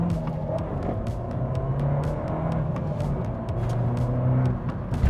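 A car engine with an Akrapovic sports exhaust hums and rumbles steadily at moderate speed, a low droning exhaust note with slight surges, no talking.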